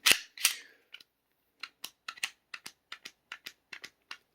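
Pistol being reassembled with a hand on the grip safety: two loud sharp metallic snaps up front, then a steady run of small dry clicks and ticks from the parts, close by and with no talk.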